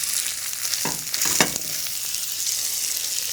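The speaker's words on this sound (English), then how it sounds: "we can go ahead and start searing our steaks" Steaks searing in a hot pan give a steady, bright sizzle with a couple of sharper crackling pops, close and continuous with no talking.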